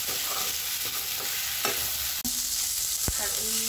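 Meat frying in a pan of browned oil, a steady sizzle punctuated by several spoon scrapes and knocks against the pan as it is stirred, with no voices.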